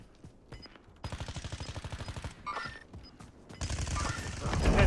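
Rapid bursts of automatic gunfire in Call of Duty Warzone, a fast rhythmic string of loud shots followed by more sustained firing and a closing heavy burst.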